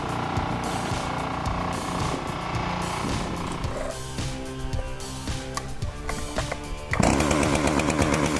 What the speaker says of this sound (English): Even seasoned lumberjacks, equipped with hydraulic-powered chainsaws and advanced felling techniques, face unpredictable challenges.